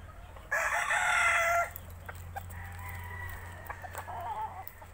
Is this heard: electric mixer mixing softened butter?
no